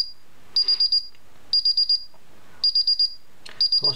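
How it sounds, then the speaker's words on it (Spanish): Countdown beeping from a Paradox wireless alarm system being armed: four groups of four sharp, even electronic beeps, loud and close, with short pauses between groups and no talking. "Cuando sean los últimos 10 segundos, cambia el pitidito."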